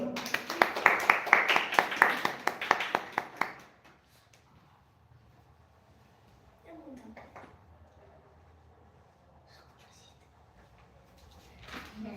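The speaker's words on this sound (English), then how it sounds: "A big clap for Sampurno." A small audience at a public speaking event claps for a speaker walking onto the stage. About three seconds of close, brisk clapping stops abruptly, followed by near silence with faint rustles and a brief voice.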